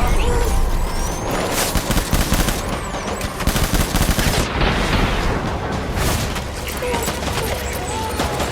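Sustained heavy gunfire in the game Death Stranding, continuous machine-gun bursts with booming impacts and explosions, loud and dense, with voices shouting over the shooting.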